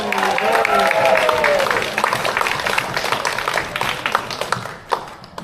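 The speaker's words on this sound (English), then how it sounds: "Gloria, round of applause" A group at a volunteer appreciation event gives a round of applause, dense clapping that starts strong and thins into scattered claps, with voices mixed in.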